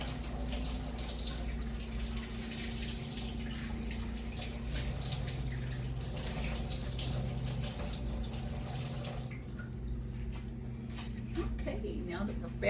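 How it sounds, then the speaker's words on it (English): Tap water runs steadily into a kitchen sink while hands are washed under it, a continuous close splashing rush that thins toward the end. "let me wash my hands"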